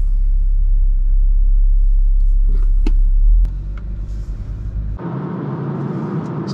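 BMW 335d diesel car on the move, a steady low engine and road rumble heard from inside the cabin, shifting to a brighter road and wind noise partway through.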